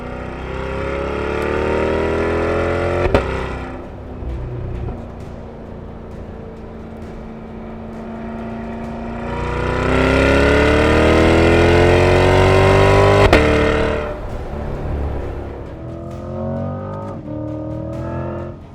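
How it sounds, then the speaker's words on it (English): A 2025 Chevrolet Corvette E-Ray hybrid sports car on a drive gives off a continuous electric drive whine layered over engine drone, with pitch sweeping upward as it gathers speed, heard loud and close from the cabin. "There is that hybrid noise coming out of this thing."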